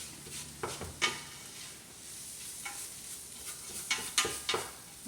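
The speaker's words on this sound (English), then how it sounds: "We just want to toast that flour." Flour toasts in a pot with onions, peppers, bacon and garlic, a faint sizzle broken by several scraping stirs and light spoon clatters against the pan, close but quiet.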